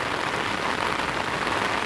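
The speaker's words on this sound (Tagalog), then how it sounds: "Ay, kalatas na ng ulan." Rain falling during a walk along a tree-lined road to church, a dense, steady hiss of drops on the surface, close and uniform, with no voices.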